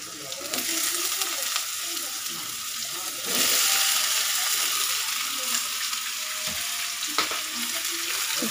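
Vegetables hit the pan of spiced oil with a loud, continuous sizzle and frying crackle, while scattered clinks and scrapes from stirring come up close over the hiss.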